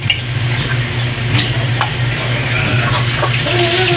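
Onion and corned beef fry in a pan with a steady, close sizzle, while a utensil stirs them with light ticking scrapes scattered throughout; no one talks.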